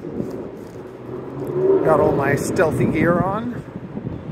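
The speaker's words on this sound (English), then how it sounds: "It's cold. It's windy. It's really windy." Low, blustery rumble of cold wind buffeting the microphone beneath someone speaking close up near the CN Tower.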